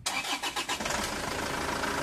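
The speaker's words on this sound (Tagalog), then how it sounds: "Start ko na itong makina." An Isuzu Traviz engine with thick oil and a noisy motor cranks briefly and catches, settling straight into a loud, steady rumble close by.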